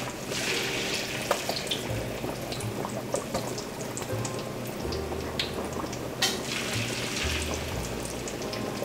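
Battered pork pieces deep-frying four or five at a time in a pot of oil, a steady close hissing, bubbling sizzle running throughout with a few sharper crackles and pops.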